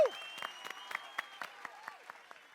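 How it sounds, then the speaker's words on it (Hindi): Residents of Gokuldham Society clap for Sodhi at a couples' shayari gathering, with about ten sharp, evenly spaced claps in a steady rhythm over a faint tonal background. "लेकिन पहले आप लोग जरा सोढ़ी जी के लिए तालियां बजाएंगे।"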